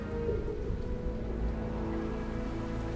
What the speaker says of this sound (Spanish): la lluvia ácida los está abrasando